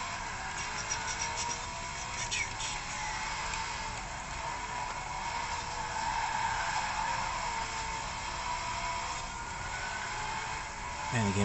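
Car braking hard and skidding in the racing game Forza Horizon 4, a steady engine roar with a sustained tire squeal through most of the stretch, loud and continuous with no pauses.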